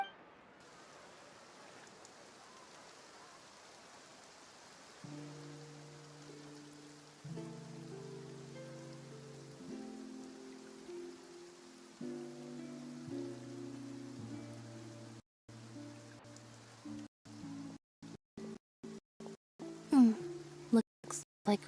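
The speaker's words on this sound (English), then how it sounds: "Looks like rain." Soft, steady rain falls in the video game Genshin Impact, a faint hiss beneath gentle melodic game music, later cut into by sharp clicks.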